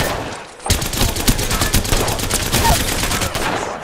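Rapid automatic gunfire in the video game Apex Legends bursts in after a brief quiet moment, then dense crackling shots run loud and close for several seconds.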